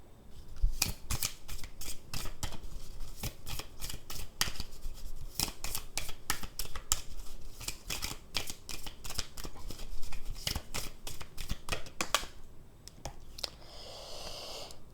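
Fortune-telling cards are shuffled and handled close up, a long run of crisp snapping and riffling card sounds in quick irregular bursts, with a softer rustle as a card is drawn at the end and no talk.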